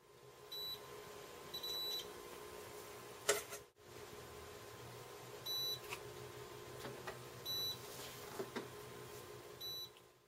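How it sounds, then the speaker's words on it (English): Multimeter beeping during continuity tests on wires connected with homemade conductive ink, a handful of short, clear electronic beeps spaced irregularly against a quiet room hum, with a few faint clicks between them. "then I use the multimeter to do some quick continuity tests"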